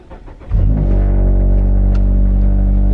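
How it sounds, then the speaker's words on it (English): Mazda 3 fitted with a Corksport midpipe and Borla axle-back exhaust firing up from a cold start, a loud engine catch after half a second settling into a steady, deep, droning idle heard close up. "This is what it sounds like at cold start."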